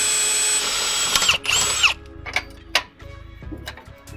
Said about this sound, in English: Now it's time to drill the hole that goes through the side.